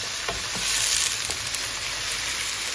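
Onions frying in a pan for a Bengali beef tripe dish, a steady, dense sizzle filling the whole stretch close up with faint stirring scrapes.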